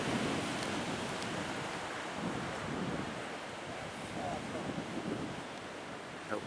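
Big ocean waves break at Mavericks on a big-wave day, a constant heavy roar of surf with wind buffeting the microphone.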